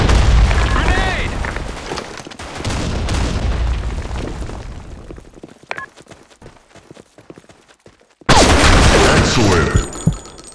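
Grenade explosion in the first-person shooter BlackShot, a loud game blast with a booming rumble and scattered battle noise, followed by a sudden second loud burst of effects near the end.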